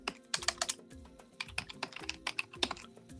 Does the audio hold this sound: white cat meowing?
no